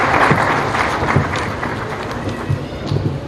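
An audience at a memorial event applauds to welcome a singer, a lively crowd clapping loudly and continuously with some voices and cheering mixed in.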